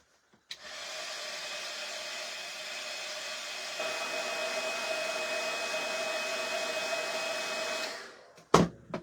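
A hair dryer blows steadily for about seven seconds while drying a crafted fall decoration for a tiered tray, its loud whooshing airflow shifting slightly partway through before it switches off, followed by a brief clatter.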